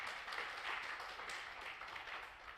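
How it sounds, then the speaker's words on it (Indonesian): Congregation applauding during a church worship service, a steady dense wash of hand claps sustained throughout, moderately distant and even in level. "Tepuk tangan buat nama Tuhan."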